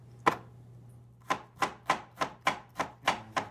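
A knife chops a garlic clove on a board: one crisp chop, a pause of about a second, then eight steady, evenly spaced chops, close and clear with no talk.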